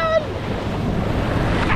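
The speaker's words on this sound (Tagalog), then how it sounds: "Lakas ang alon." Strong ocean waves and surf roll and crash continuously close by, mixed with heavy wind buffeting the microphone, heard from a small boat out on rough water with no talking.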